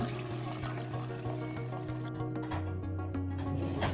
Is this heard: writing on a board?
no